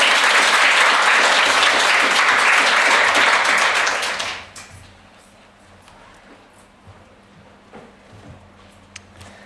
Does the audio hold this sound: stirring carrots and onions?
no